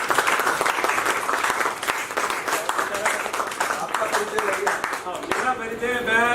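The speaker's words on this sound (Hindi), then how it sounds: "और अगर अच्छा लगा हो तो एक बार जोरदार ताली हो जाए।" An audience bursts into loud, sustained applause after a Hindi stage play, with dense clapping filling the whole stretch and a voice emerging over it near the end.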